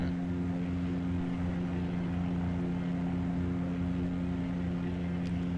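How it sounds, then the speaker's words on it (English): Propeller airplane in the Flight Sim World game, flying the pattern at San Luis Obispo airport (KSBP), droning steadily as a continuous engine hum with strong low harmonics, no talk over it. "I can hear a plane going behind me."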